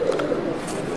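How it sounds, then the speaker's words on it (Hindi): A champion pigeon on a rooftop gives a short, soft cooing call, close by and on its own, lasting about a second. "बिल्कुल जनाब इनका चैंपियन कबूतर है"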